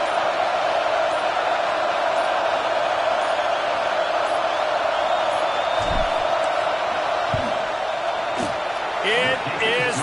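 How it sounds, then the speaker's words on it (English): Stadium crowd noise in a college football video game as the field goal unit takes the field on fourth down, a steady loud roar of fans with a few sharp thuds and whoops near the end. "This crowd trying to do its part to get inside the kicker's head."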